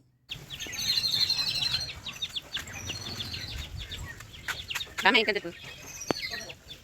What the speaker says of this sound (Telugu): ఇక్కడ నేను వీడియో తీస్తుంటే బోర్డ్స్ అరుస్తున్నాయి